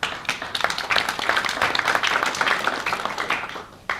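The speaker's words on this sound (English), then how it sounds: "Now, that low clap you got was a bugger." A small audience gives a scattered, low-energy round of clapping, a dense patter of hand claps that swells briefly then thins out and trails off within a few seconds.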